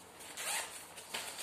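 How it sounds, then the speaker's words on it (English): A backpack zipper on an ultralight packable backpack being pulled open in a couple of quick, rasping strokes, close and fairly quiet, with no voices. "So it's really simple design, only with one zipper,"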